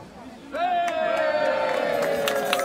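A crowd erupts in cheering and shouting for the year's winner, a sustained yell rising suddenly and holding with scattered claps and loud voices mixed in.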